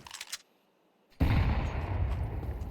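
Counter-Strike gunfire sprayed through a smoke grenade: after a brief pair of faint pops and a near-silent gap, a loud, dense burst of rapid automatic shots erupts and sustains to the end.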